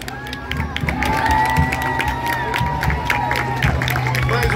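A crowd cheers and applauds at a civic-military Independence Day parade on 7 September in Brazil, a loud, sustained roar of voices and clapping with shouts rising over it and a whistle-like tone running through.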